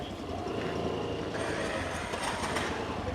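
A train rumbles steadily at Thalassery railway station, a dense, continuous mechanical roar of rolling stock and engine noise filling the platform with no voices.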